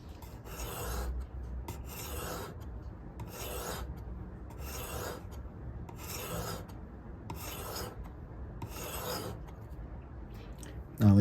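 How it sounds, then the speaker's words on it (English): A steel knife blade pushed in repeated strokes across a Bhumi diamond sharpening stone, giving about eight steady gritty rasps at an even rhythm, close and clear with no talk. "and then let's start sharpening."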